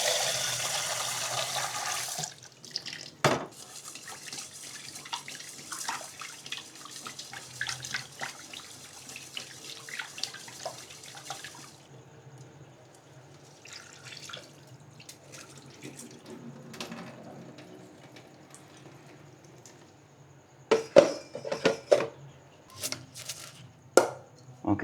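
Kitchen tap water runs loudly at first while rice is rinsed to wash out starch, then drops to faint trickles and handling noises, with a brief burst of splashing near the end.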